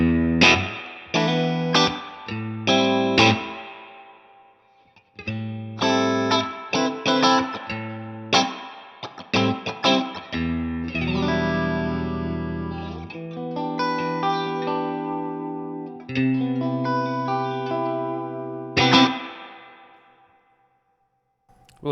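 Electric guitar through a Two-Rock Studio Signature amp plays chords and single notes drenched in reverb, each strum ringing out and decaying with a washy tail, no talking.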